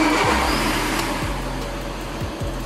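Diesel engine of a Skoda Rapid turning over steadily after a key start, a close, continuous mid-range rumble with a few brief rev dips, heard alone.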